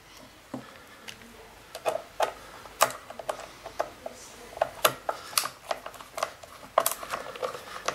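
Screws being undone on a Kirby vacuum cleaner during a fan repair, a series of sharp ratcheting clicks and ticks at irregular intervals, close up and fairly crisp.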